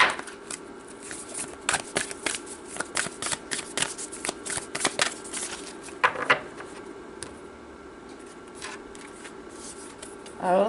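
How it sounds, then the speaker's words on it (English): Tarot cards shuffled and drawn from the deck, a long run of crisp riffling flicks and soft slaps close to the mic, with a quiet pause near the middle and a final clatter at the end. "let's pull another card and see what accompanies this"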